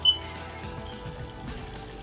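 Water trickles and pours steadily into a pan of coconut curry fish gravy, a soft continuous stream heard close up with no talking.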